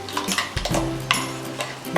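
Chicken changezi being stirred in a cooking pot, a spoon scraping and clinking against the metal in short irregular strokes, close and fairly loud with no talking.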